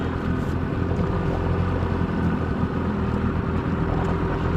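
A boat motor out on the water drones steadily and loudly close by, a thick constant rumble with wind buffeting the microphone and no clear rise in pitch.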